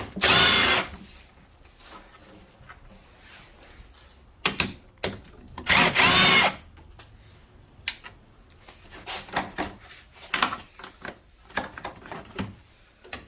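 A power drill with a 10 mm socket removes bolts on a 2011 or later Chevy Cruze during radiator removal, giving several loud whirring bursts between quieter clinks and handling noises.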